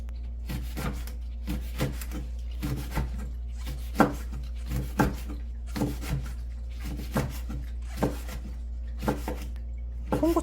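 A knife slices red chili peppers on a cutting board in a steady series of soft, close chopping taps about every half second, over a constant low hum, with no talking.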